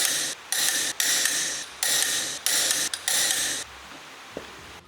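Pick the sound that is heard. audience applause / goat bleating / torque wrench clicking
torque wrench clicking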